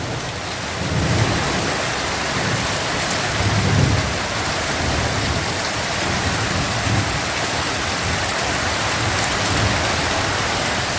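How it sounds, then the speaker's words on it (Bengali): Heavy rain pours steadily and loud, with deep thunder rumbling in low swells through the downpour; no voices. "দেখেছো কেমন আওয়াজ হচ্ছে আকাশের"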